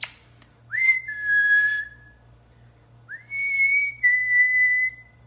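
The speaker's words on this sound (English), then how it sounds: "Sorry if you guys don't like whistling." A person whistles a melody alone, two sustained, gliding phrases with a short gap between them, clear and fairly close over a low steady hum.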